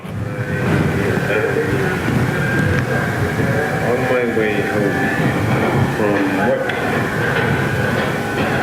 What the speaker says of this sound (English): This is on the subway in Toronto.